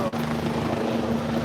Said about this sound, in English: We've got a helicopter hovering overhead.